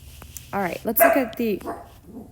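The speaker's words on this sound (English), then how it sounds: "Sorry about my dog." A dog barks several times in quick succession nearby, the short yaps overlapping and mixing with a person talking indoors.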